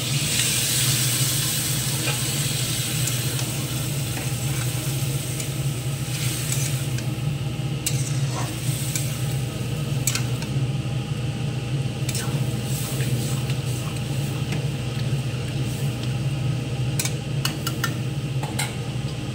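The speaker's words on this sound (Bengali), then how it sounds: "সেদ্ধ করা মটরটা দিয়ে দেবো।" Boiled peas are stirred into a pan of reddened fried vegetables, giving a steady, close sizzle of frying with soft scraping and squishing from stirring throughout, and no talking.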